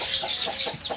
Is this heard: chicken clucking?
yes